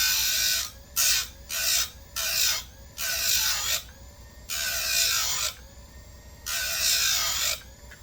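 Hand file sharpening the teeth of a Husqvarna 357XP chainsaw chain, a run of rasping strokes in bursts of varying length with short pauses between, close and fairly loud, no talking.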